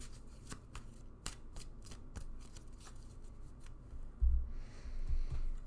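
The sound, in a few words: shuffling a deck of tarot cards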